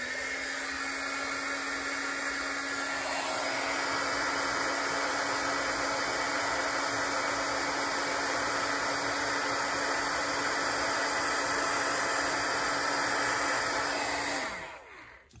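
A heat gun melts embossing powder on a handmade Christmas card, a steady, close blowing whir that runs unbroken for about fourteen seconds and then cuts off, with no talking.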